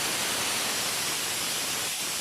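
Water poured into a chickpea curry gravy, a steady, loud, broadband rushing pour that continues without pause throughout.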